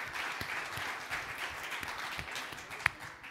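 Audience applause for Marist College at a Linux Foundation keynote, a steady spread of clapping filling the room with one sharper clap standing out near the end, no speech over it.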